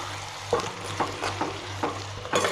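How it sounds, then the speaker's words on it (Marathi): Chopped vegetables frying in a cooked masala with green chilli and garlic over a wood-fired clay stove, a soft steady sizzle broken by five or six sharp scraping stirs at regular intervals, close by and with no talking. "तर भाजी टाकून घेऊ बारीक केलेली"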